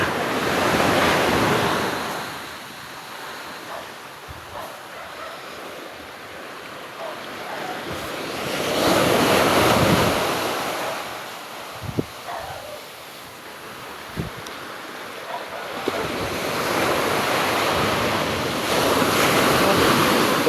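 Large sea waves crash and surge in repeated heavy swells against a sandy shore, loud and close with wind buffeting the microphone, each wave building to a roaring wash before receding.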